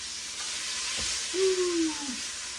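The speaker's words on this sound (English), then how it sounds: "We're going to let that brown up. And then we're going to come back. Just going to give this a little bit of a stir." Stew meat browning in a pot gives a steady loud hiss and sizzle throughout, with a brief scrape of stirring partway through and no talking.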